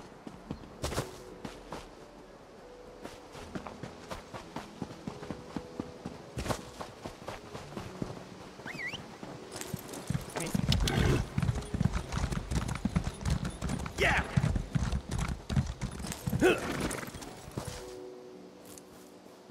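Horse hooves clip-clop steadily while riding in Elder Scrolls Online, a close, rhythmic walking gait that grows louder and denser in the second half, with a brief whinny and no talk.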